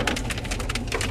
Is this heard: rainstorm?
yes